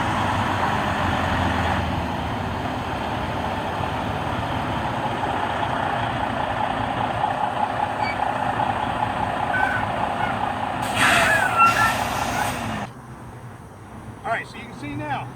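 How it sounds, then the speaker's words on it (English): A conventional semi tractor-trailer truck idles and rumbles while backing into a parallel parking spot, with reversing beeps and some brief clatter; someone talks over the engine noise. "walk my tractor back in front of my trailer and put it in the box"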